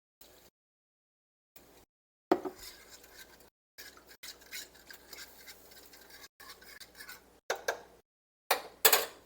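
Milk being whisked in a hot pan for pork tips gravy, a soft scraping and clinking of a whisk against the pan in bursts separated by silent gaps, close and fairly quiet, no talking.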